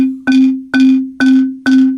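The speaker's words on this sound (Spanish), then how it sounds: "La marimba guatemalteca tiene una vibración." A Guatemalan marimba with a gourd resonator whose membrane adds a rattling buzz: four evenly spaced strikes on the same low bar, each ringing on with a sustained, buzzy drone.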